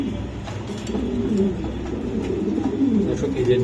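Pigeons kept for sale, including Mundian, racer and beauty homer types, coo continuously and close by in low, overlapping warbles that keep a steady level.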